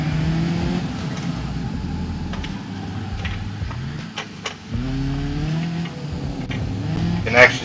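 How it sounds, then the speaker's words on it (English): A 2022 Skoda Octavia in the BeamNG driving game revs its engine through rising and falling pitch sweeps, with a brief dip midway and a short tire squeal near the end, under a person talking. "Go for that engine sound here."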